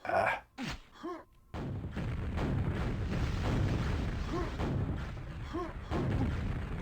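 Rocket explosions in a close-range Quakeworld duel, several sharp blasts and booms in the first seconds, then a sustained rumbling stretch with further muffled explosions.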